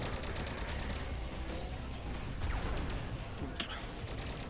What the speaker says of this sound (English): Oh, that was a point-blank railgun shot.